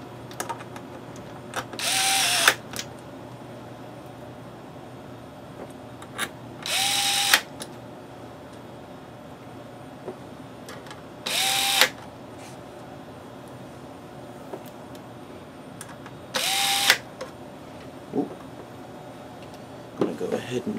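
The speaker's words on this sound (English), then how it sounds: "I'm using a torque level of 9 on my drill" Power drill set to torque level 9 backing screws out of a Dell Optiplex 9020 all-in-one computer, four short whirring bursts spaced a few seconds apart, each ending in a brief ratcheting clutch sound, against a quiet background.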